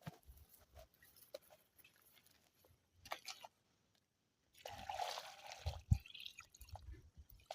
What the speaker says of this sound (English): Can show my people how I'm actually watering them